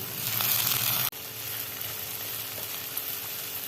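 Onion and ground green chili paste sautéing in a pan over lowered heat for dry fenugreek curry, a steady close sizzle with a brief break partway through, no talking.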